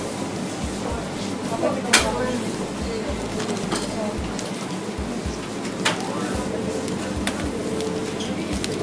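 A pigeon or dove coos outdoors on Sakhalin, a few soft calls over a steady patter of rain, with people talking nearby.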